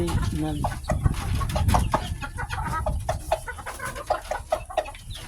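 Chickens and fowl at feeding time, with a busy mix of clucks and scratchy pecking sounds close by, steady and overlapping throughout, mixed with other farmyard noise.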